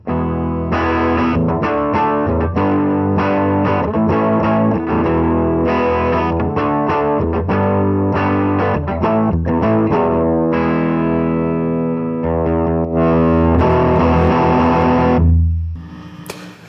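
Heavily overdriven electric guitar through a Line 6 Flextone II amp on its tweed blues model, loud, sustained chords and riffs with fuzzy distortion filling the whole stretch, then cutting off near the end.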